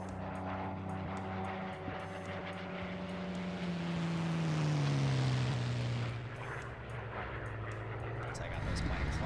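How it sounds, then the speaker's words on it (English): Propeller aircraft in a Korean War military video game, an engine drone that rises and falls as planes fly around and pass overhead, heard under steady talking with other vehicle rumble in the mix. "I got those planes flying around."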